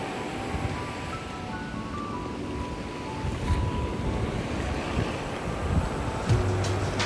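Ocean surf washes onto a beach in a steady, close roar of breaking water mixed with gusty wind buffeting the microphone.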